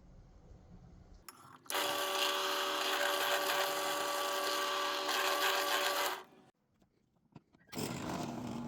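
A power drill whines loudly and steadily for several seconds while drilling a knife handle, stops, then starts up again briefly at the end.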